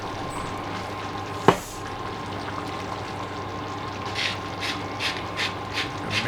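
Pepper mill twisted over a sausage casserole, a run of soft ratcheting clicks in short bursts toward the end after a single sharp knock, over a faint steady background hum.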